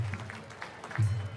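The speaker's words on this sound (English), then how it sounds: "They're clapping for you." An audience applauding at a fight event replays through a speaker, a short patter of claps heard under a low hum and some talk.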